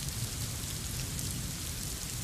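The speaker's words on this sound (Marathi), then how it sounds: "आपण पाहतोय सध्या मुंबईमध्ये मुसळधार पाऊस सुरू आहे" Heavy monsoon rain pours down in Mumbai as a dense, even hiss of drops drumming on surfaces. It is steady and close, with no voices.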